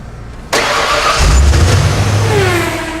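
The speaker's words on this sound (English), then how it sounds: "now we're going to start the Bronco so the oil can build up and build pressure inside the oil pan" A Ford Bronco engine cranks and fires after a brief quiet moment, then settles into a loud, steady mid-pitched idle with a slight rev rising and falling, close to the microphone.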